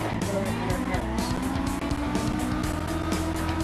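A car drifts in the CarX drifting video game, played with an Xbox controller, its engine whining steadily with a continuous tire squeal layered over the drone throughout.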